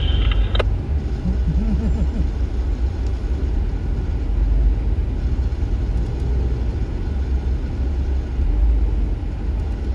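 Heavy road traffic in Honduras, with trucks and other vehicles rumbling past in a constant loud engine drone, close by, with a brief horn-like tone at the start and no talking.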